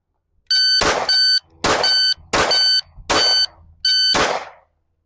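A sharp electronic shot timer beep starts things off, followed by loud pistol gunshots in a quick series, each blast ringing out with short gaps.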